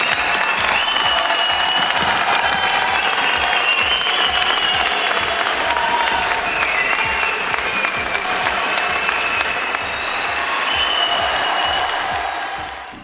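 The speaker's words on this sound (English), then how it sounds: "they really deserve one standing ovation and a big applause for this event" Dance sport training camp audience gives a long, loud standing ovation, dense continuous clapping with some cheering and whistles mixed in, sustained for over twelve seconds before easing slightly near the end.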